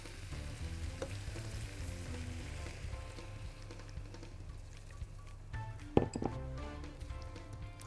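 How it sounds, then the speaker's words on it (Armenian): Mushroom soup is stirred in a pot after milk is added, a quiet bubbling sizzle with soft scraping and a brief clink near the end, close and low in level. "Խառնում եմ լավ։"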